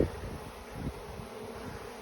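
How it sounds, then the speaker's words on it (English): Honey bees from a freshly installed package hum in a low, steady, faint buzz inside a hive, thousands of bees droning close without pause. "I dumped thousands of bees in there"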